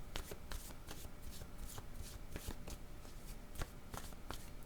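Tarot cards being shuffled by hand in a steady, close flurry of crisp riffling and slapping strokes that runs the whole time, with no voices.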